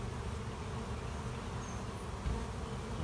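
Honey bees buzz around a hive during a trap-out, a dense, continuous swarm hum that stays loud and close without a break, with no speech.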